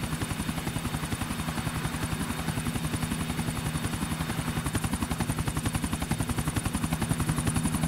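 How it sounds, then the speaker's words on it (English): A helicopter in Grand Theft Auto IV, with steady rapid rotor chopping and a droning turbine whine, loud and continuous throughout. "Can you jump in and fly the helicopter?"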